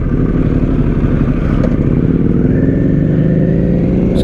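A 2022 Harley-Davidson Pan America Special motorcycle being ridden, its engine droning steadily and loudly throughout with a slight shift in pitch as speed changes, heard up close with wind noise.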